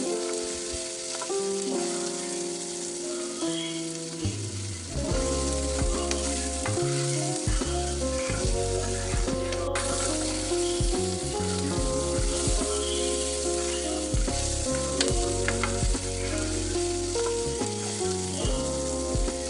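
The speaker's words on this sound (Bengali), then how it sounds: "এখন কেটে ধুয়ে রাখা চর্বি আর আলুগুলো দিয়ে দিচ্ছি।" Beef fat and potatoes fry in a spiced masala in a pan, a continuous sizzle under steady background music.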